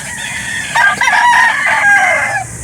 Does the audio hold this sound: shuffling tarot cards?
no